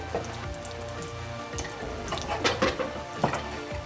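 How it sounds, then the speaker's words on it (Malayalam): Green chillies with a pinch of fenugreek powder and asafoetida sauté gently in oil, a soft uneven crackle and sputter broken by a few louder pops and stirring clatters close by. "ഇപ്പം നമ്മുടെ പച്ചമുളക് നന്നായിട്ടൊന്ന് ഇതിനകത്തിലെ എണ്ണയിൽ കിടന്നിട്ടൊന്ന് വഴന്ന് നന്നായിട്ടൊന്ന് വരണം"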